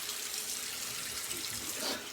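Cold tap water runs steadily into a sink to rinse a Karve SS Trafalgar T3 shaving razor, a soft, even hiss of flowing water with no voices.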